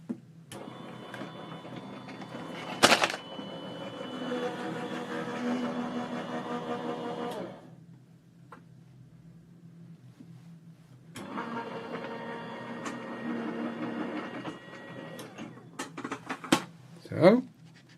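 A die-cutting machine presses a textured embossing folder through its rollers for an art journal panel, giving two sustained mechanical grinding runs separated by a quieter gap, with a sharp clack near the start and another near the end.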